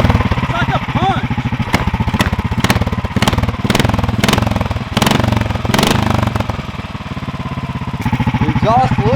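A loud 500cc Duromax petrol engine idles steadily with a rapid, chugging pulse, close by, while voices talk over it now and then.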